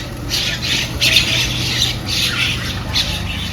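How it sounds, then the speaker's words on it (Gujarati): Mynas squawk in repeated harsh bursts at a doorway in the morning as they gather to feed, several calls overlapping fairly close over a steady background hum. "સવારમાં હું દરવાજો ખોલું ને એટલે આપણે કાબરો આવી જ જાય ખાવા માટે"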